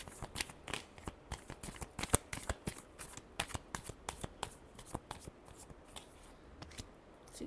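Tarot cards are shuffled in a run of quick, crisp riffling bursts and soft flicks, close and fairly quiet, with no talking.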